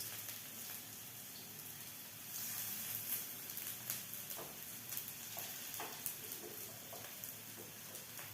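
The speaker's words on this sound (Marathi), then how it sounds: "त्यामध्ये टिक्की आपल्याला छान अशा शॅलो फ्राय करून घ्यायच्या आहे" Broccoli tikki shallow frying in hot oil on a lowered gas flame, a steady soft sizzle with scattered crackles and pops that grow a little louder partway through, no voices.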